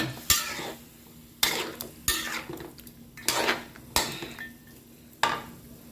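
Pork bones being stir-fried in a metal pot for a coconut-milk curry with bamboo shoots. A spatula scrapes and knocks against the pot in about six sharp, evenly spaced strokes over a faint sizzle.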